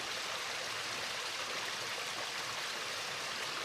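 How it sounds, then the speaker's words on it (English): A small waterfall inside a cave at night rushes steadily, a constant broadband splashing roar heard close and alone without any talk. "That's cool, little waterfall."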